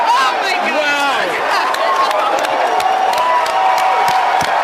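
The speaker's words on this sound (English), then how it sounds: "You can hear the cheering, excitement and confirmation that we have had a successful first stage landing" A crowd cheers and whoops at a rocket's successful first stage landing during the Rideshare-1/DEMO-4 mission, producing a continuous loud wash of excited voices, shouts and chatter with scattered claps throughout.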